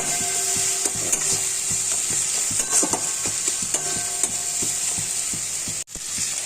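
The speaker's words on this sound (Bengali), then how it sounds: "মশলাটা কষে নিচ্ছি ভালো করে।" Spice masala stir-fried with sugar and salt for a pointed gourd and potato curry, a steady sizzle with a regular series of spatula scrapes and taps, a brief dropout near the end, and no voices.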